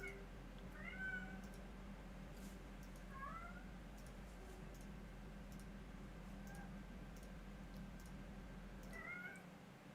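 A cat meows four or five times in short, rising calls spaced a couple of seconds apart. The calls are faint and sit over a low steady hum and some light ticking.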